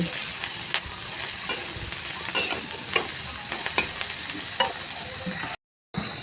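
Onions frying in a pan for an aloo sandwich, a steady loud sizzle with repeated scraping clicks of a spoon stirring, close up, briefly cut to silence near the end.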